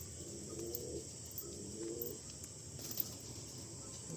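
Pigeons in a loft coo in two or three low, murmuring bursts, fairly faint against a steady high-pitched hiss and light background ambience.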